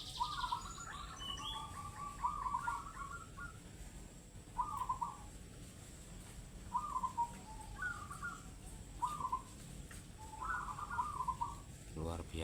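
A zebra dove repeats short cooing calls in a rhythmic series, each brief phrase spaced a second or two apart over faint outdoor background noise.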